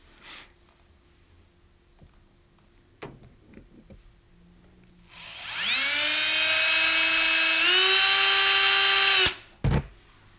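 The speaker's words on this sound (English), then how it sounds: "using a larger drill bit about the size of the rivet itself" A power drill whines loudly and steadily for several seconds, its pitch rising slightly as a rivet-sized bit drills out a metal rivet, then cuts off, followed by a brief burst.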